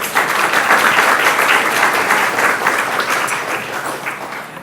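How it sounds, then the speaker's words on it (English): Audience applause at a youth enrichment program luncheon, a dense, steady wash of clapping from a room full of people that holds strong and eases off slightly toward the end. "let's give them a round of applause"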